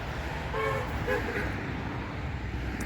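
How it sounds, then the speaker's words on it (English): Short car horn toots from passing traffic sound a couple of times over a steady roar of a busy highway, somewhat distant. "As you can hear people beeping"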